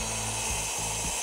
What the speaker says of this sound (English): My chop saw blade wasn't quite long enough to cut all the way through the sleeper